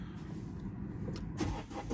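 A Mercedes C220 CDI diesel engine starts from cold after sitting overnight, settling into a low, steady rumble that is faint and muffled throughout.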